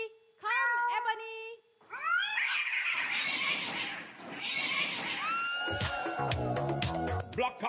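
A black cat meows repeatedly inside a textile store, loud and close with rising, wailing calls, while a person's voice coaxes it at the start and louder speech and a brief burst of noise follow near the end.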